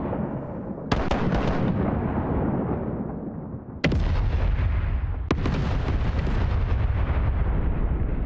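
Cannons fire in a pirate naval game, three heavy booms with sharp onsets spaced a few seconds apart, each followed by a long rumbling roar that fills the sound without pause.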